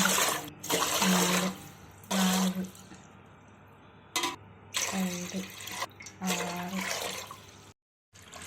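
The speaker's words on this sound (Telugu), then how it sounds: "9 గ్లాసులు వాటర్ పోసుకుని మనం కాగబెట్టుకుందాం." Nine glasses of water poured into a pot before it goes on the stove for boiling, heard as several separate bursts of splashing and pouring broken by short pauses, with a voice speaking in between.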